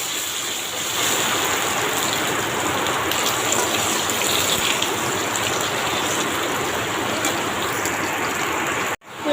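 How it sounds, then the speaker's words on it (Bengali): A heavy downpour of rain pours steadily in a home kitchen setting, a dense, even hiss that holds loud and unbroken for the whole stretch before cutting off abruptly at the end. "এখন দেখো মুষলধারায় বৃষ্টি নামছে আমাদের এখানে।"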